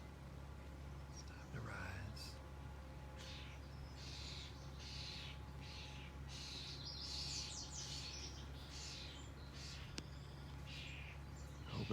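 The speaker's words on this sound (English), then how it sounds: "It's time to fly like these birds." Birds chirp intermittently outdoors on a Sunday morning in nature, short bright calls scattered over a steady low background hum, moderately distant and fairly faint.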